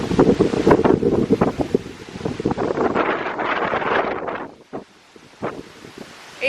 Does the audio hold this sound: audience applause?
no